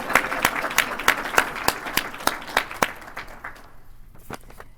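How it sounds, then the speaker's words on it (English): Audience applause at a reentry conference, a moderate crowd with several loud, distinct claps standing out over the general clapping, which thins and fades toward the end. "Can we get a round of applause?"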